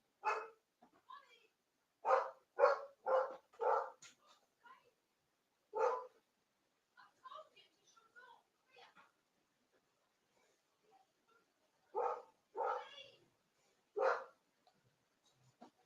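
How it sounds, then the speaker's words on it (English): Dogs bark in scattered clusters of sharp, fairly distant yaps with quiet gaps between bursts, heard in the background of an indoor live stream. "The dogs are non-stop barking at the moment."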